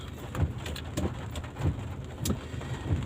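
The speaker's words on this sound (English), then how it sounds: "It's raining." Rain falls in Bohol, Philippines, a steady hiss of drops on surfaces with soft irregular patters and dull thumps, moderately loud and continuous with no voices.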